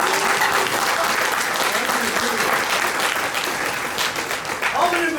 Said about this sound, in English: Can we first have an applause for all the shit that we've accomplished?